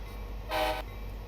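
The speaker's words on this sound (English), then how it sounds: "Let's actually go ahead and stop the train right here" An Amtrak F59 locomotive in the Train Sim Classic simulator gives a single short horn blast, loud and close, over a steady low rumble of the train.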